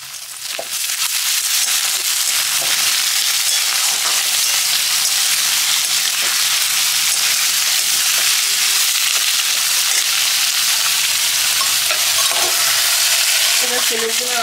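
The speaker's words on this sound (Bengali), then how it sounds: "আবার বিট গাজর আলুও ভাজবো" Chopped beetroot, carrot and potato sizzle and fry steadily in a pan in a home kitchen, with a loud continuous hiss and occasional stirring scrapes and clinks.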